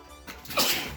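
One sharp sneeze bursts out close by after a brief intake of breath, short and forceful.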